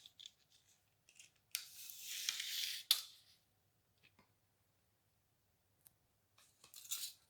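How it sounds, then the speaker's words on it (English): A measuring tape is pulled out one-handed during work on a Volvo 460 T5 AWD. A faint rasping whir of the blade runs for about a second and a half and ends in a sharp snap, with small scattered clicks before and after. "You take the measuring tape, I gotta get it out with one hand."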